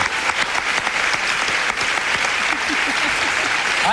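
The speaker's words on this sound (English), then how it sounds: "how about a little round of applause for that?" Studio audience at a live morning talk show applauds steadily and loudly, a dense wash of clapping sustained throughout with faint voices underneath.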